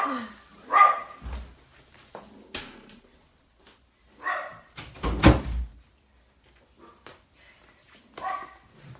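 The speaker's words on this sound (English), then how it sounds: "of course, the dogs have to start barking" Dogs bark in a few separate bursts, some sharp and loud, others muffled, with quiet gaps and a door-like thud between them.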